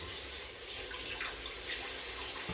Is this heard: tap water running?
yes